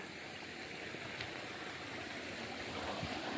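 Irrigation water pours steadily into a sugarcane field, a constant soft rushing flow with no breaks, fairly faint and heard alone without voices.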